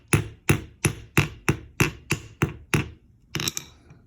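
A Craftsman hammer strikes metal wire eight times in a steady, evenly spaced rhythm, each blow sharp and close, followed by a couple of quicker, lighter taps.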